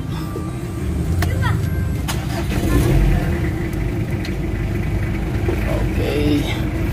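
A Mitsubishi Adventure engine idles; the vehicle has a throttle delay, vibration and low-power fault. It gives a steady, loud, low rumble that runs throughout, with faint clanks on top.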